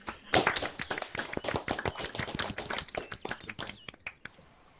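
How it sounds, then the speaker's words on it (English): A round of applause from a group at a military unit gathering marking someone's retirement after two years, dense overlapping claps that swell quickly, stay steady, then thin out to a few scattered claps before fading. "So I think that deserves a round of applause."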